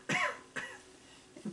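Two short deliberate coughs, demonstrated as if into a cloth or towel for Covid-19 safety, come close and fairly quiet, the first stronger than the second, followed by a faint breath.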